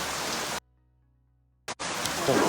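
Heavy rain from Super Typhoon Karding pours down as a loud, steady hiss, cut off by a sudden gap of near silence, then surging back just as dense and windy.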